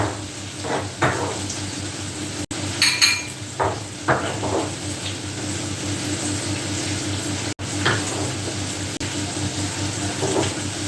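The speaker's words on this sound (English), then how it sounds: "So I am cutting up some more chicken for the rest of the week." Raw chicken being cut up on a cutting board in a home kitchen, with scattered knocks, scrapes and clinks of knife and board over a steady background hum, a few louder chops standing out.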